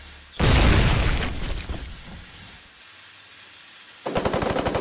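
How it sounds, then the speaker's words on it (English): Machine gun fire in the video game Foxhole: a loud blast and burst of fire that decays into rumbling echoes, then a rapid, evenly spaced string of shots at the end. "machine gun fire on the right"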